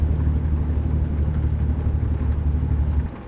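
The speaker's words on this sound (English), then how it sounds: "Let's see what the Jake brake sounds like now." A truck's Jake brake (engine brake) in a truck driving game, a loud, steady low rumbling drone that holds for about three seconds before cutting off.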